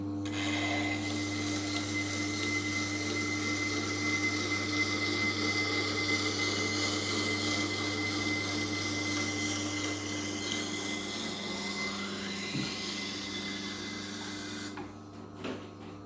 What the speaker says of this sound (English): This is a 400 grit CBN wheel.